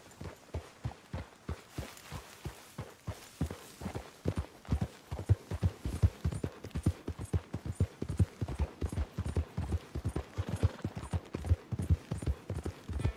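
Horse hooves clip-clop steadily at a walking pace while riding in the Red Dead Redemption 2 video game, a close, regular rhythm of distinct hoofbeats continuing throughout with no talking.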